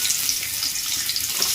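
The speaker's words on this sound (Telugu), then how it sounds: "ఆనియన్స్ కొంచెం మంచిగా ఫ్రై అవ్వాలండి ఆయిల్లోనే" Thinly sliced onions frying in hot oil for upma, producing a steady, hissing sizzle heard close and alone throughout.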